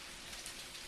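Rain falls inside a hotel in the game Jalopy, a steady dense hiss of drops, faint and continuous for under a second with no talk.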